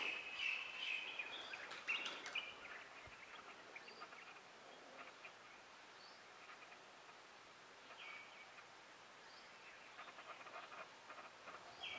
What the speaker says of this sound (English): It's just the birds and the flies and the mosquitoes